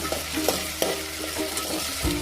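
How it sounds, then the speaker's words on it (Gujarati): Onions and potatoes fry in hot oil with green garlic, green chillies, mustard seeds and cumin, giving a steady close sizzle broken by several sharp scraping stirs of a spoon in the pan. "તેલમાં સરખા ફ્રાય થઈ જાય"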